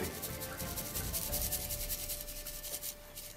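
Finely ground chili flakes are sifted through a sieve for a fried chicken coating, giving a faint, continuous rustling and rubbing that stays steady throughout.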